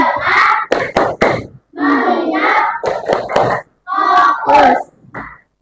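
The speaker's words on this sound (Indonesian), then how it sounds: "Kita tepuk semangat." Schoolchildren in an Indonesian classroom perform a rhythmic spirit clap, loud unison claps in quick patterned bursts mixed with group chanting and shouted calls, close and energetic.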